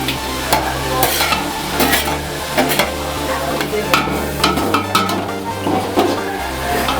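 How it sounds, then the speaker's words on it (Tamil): Onions with cloves, green chili and ginger-garlic fry in a pan for quail biryani, a steady close sizzle under repeated rhythmic stirring scrapes and light clinks of a spoon against the pot. "ஸோ வெங்காயம் வந்து இந்த மாதிரி வெந்திருக்கணும்."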